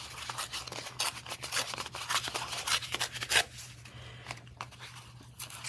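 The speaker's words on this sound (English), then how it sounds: "rip a piece of embossed paper." A sheet of embossed paper being ripped by hand up close, a run of short crisp tearing and rustling bursts that thin out toward the end.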